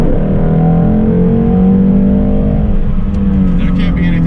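A 2016 Shelby GT350 engine rumbles loudly and steadily close by, its exhaust tone holding then easing slightly toward the end, with voices talking over it.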